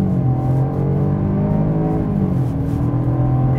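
A Jaguar XF in sport mode with traction control off launches hard, its engine revving loudly and climbing steadily in pitch as it accelerates, heard from inside the car with no talking.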